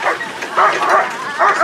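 Several sled dogs bark and yip excitedly at a dogsledding camp near Skagway in freezing weather, overlapping bursts close by and fairly loud, with people talking underneath.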